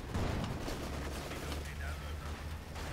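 Maxim machine gun bursts in a Company of Heroes battle, a dense rattle of gunfire with rumbling low-end battle noise running steadily for three seconds, no clear gaps between shots.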